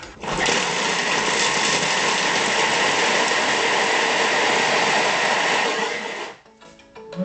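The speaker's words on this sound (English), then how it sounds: "And now it's going to mix this at speed 6 for 5 seconds." An Athol food mixer runs at speed 6 while mixing pork pie pastry, giving a loud steady whirring drone for about six seconds before stopping, followed by faint clicks.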